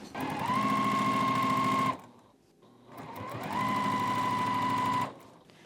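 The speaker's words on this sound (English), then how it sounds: "So let's go over to the sewing machine." A sewing machine stitching strips of fabric for binding in two steady bursts, each lasting about a second and a half, with a short pause between them. Close and clear, no talking.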